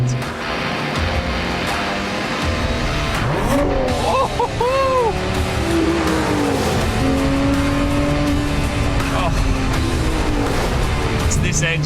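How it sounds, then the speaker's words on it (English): A brand-new 2022 Lotus Emira sports car accelerates hard, its engine rising and falling through rev sweeps with tire noise, loud and close, while a voice talks over part of it. "This engine just roars."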